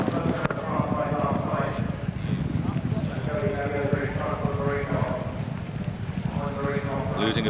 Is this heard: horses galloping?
yes